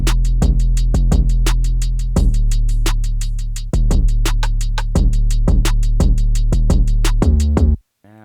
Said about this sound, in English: As you can hear, the kick is delayed from the 808, gives it a little bit more bounce.